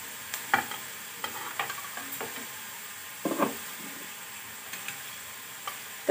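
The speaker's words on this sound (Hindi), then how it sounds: "तो गाइस प्याज अच्छे से लाल हो चुका है, अब हम इसमें टमाटर डाल दे रहे हैं।" Onions frying in a pan as chopped tomatoes go in and get stirred, with soft scraping stirs and a low sizzle broken by scattered clinks at an even, unhurried pace.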